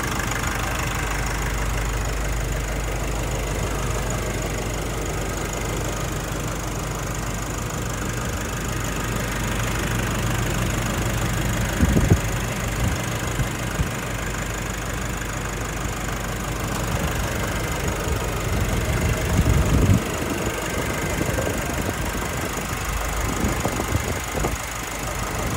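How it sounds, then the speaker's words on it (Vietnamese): A 2018 Nissan Navara automatic diesel idles steadily and smoothly, a continuous low engine hum heard close up and alone, with a few faint clicks and knocks near the end. "Đây là cái tiếng động cơ đang hoạt động nhá."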